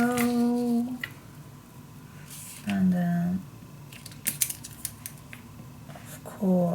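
Scissors cut through Graphic 45 scrapbook paper in a few short, crisp snips with quiet pauses between them, close to the microphone in a quiet room.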